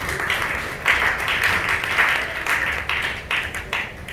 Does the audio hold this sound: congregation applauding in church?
yes